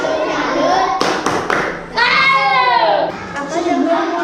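A Grade 5 class performs the rhythmic 'tepuk salut' clapping chant, with a few sharp, close hand claps landing among the children's chanting voices.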